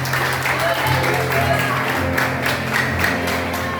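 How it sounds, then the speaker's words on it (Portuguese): A church congregation applauding in praise during an afternoon consecration service, steady sustained clapping from many hands with a sung or spoken voice and held tones running underneath. "suas palmas louvam ao Senhor nessa tarde"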